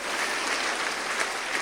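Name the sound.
applause in church congregation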